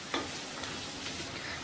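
Tomatoes sautéing with ginger, garlic and green chili in a pan for vegetable biryani give a soft, steady sizzle with a few scraping stirs, close and fairly quiet throughout.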